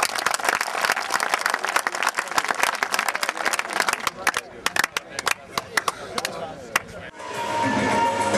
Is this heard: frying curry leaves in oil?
no